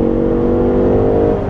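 A 2013 Chevrolet Impala 1LTZ engine revs hard with a steady loud, close drone and rising harmonic whir throughout, no talking heard.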